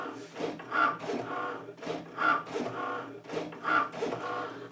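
Cricut machine running print then cut calibration cuts, with soft rhythmic whirring and scraping passes of the carriage repeating about every second and a half, quiet and close.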